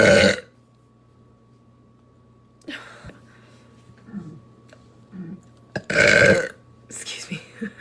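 Deep, bassy burps from a woman, two loud gurgling belches a few seconds apart with quieter breathy sounds and murmuring between them.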